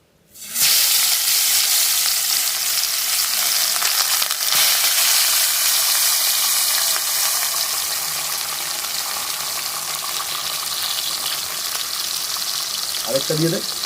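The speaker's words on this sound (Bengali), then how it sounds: "তেল গরম হয়ে গেছে, মাছগুলোকে ভেজে নিচ্ছি।" Parshe fish sizzle and crackle steadily in hot oil in a kadai, a loud, dense frying hiss that starts abruptly and continues throughout, with brief clinks near the end.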